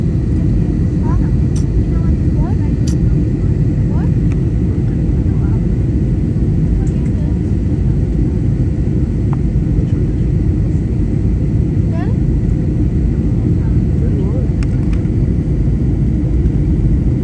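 Inside a passenger airplane landing in Phuket, a loud, constant low engine and cabin roar fills the whole stretch, with faint scattered higher sounds above it.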